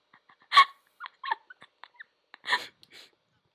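A dog whimpers and yips in a Roblox game, a series of short whines and breathy cries spaced across a few seconds, close and clear with no talk over it.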